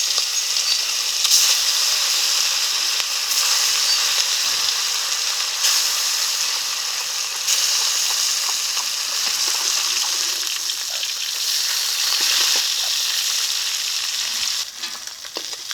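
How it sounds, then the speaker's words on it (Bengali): Fish sizzling in hot oil, a loud, steady and close frying hiss that runs unbroken for the whole stretch with occasional crackles and faint stirring. "এই তেলে মাছগুলো ভেজে নেব"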